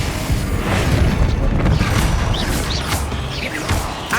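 The Confringo blasting spell cast in Hogwarts Legacy, a loud booming burst with crashing debris and rumbling, followed by a few brighter magical whooshes and chimes over steady game ambience.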